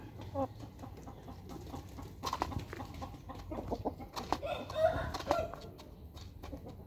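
Chickens, including a fighting rooster, make scattered clucks and short calls near at hand over a low rumbling background, with no talk.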